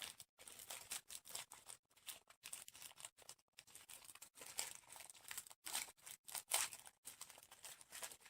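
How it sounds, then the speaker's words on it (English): The paper label on a tin of Brunswick boneless butterflied sardines in mustard and dill sauce is handled up close, giving quiet, irregular crinkles and crackles in rapid bursts with brief pauses between them. "Rattling the paper, that is."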